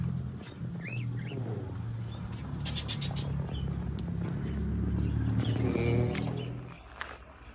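Birds at a floating chalet in Alor Setar give short high chirps and calls over a low, steady background rumble, fairly faint and scattered through the scene.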